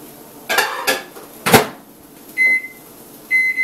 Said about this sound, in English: we're going to pop this into the microwave here real quick